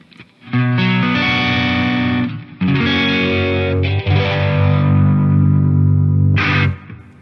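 Electric guitar with a little gain runs through a Kmise Vintage Phase pedal switched on, sustained chords and notes sweeping with a swirling, phased shimmer, loud and close with no talking.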